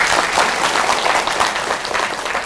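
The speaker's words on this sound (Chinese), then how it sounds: "麻烦各位给个掌声" Audience applause at a talk by a doctor on mind-body healing, a steady dense clatter of many hands clapping throughout, fairly close and loud, with no voices over it.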